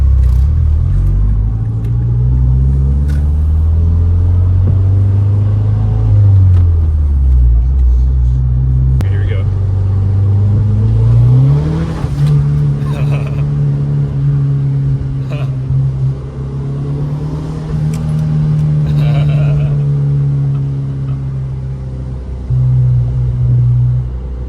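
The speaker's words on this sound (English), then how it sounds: "do a little second gear, just partial throttle type stuff, hear the turbo kind of things" A Mazda hatchback's turbocharged engine pulls in second gear at partial throttle, its low rumbling note rising and falling through steady revs, close and continuous over about 24 seconds with road noise underneath.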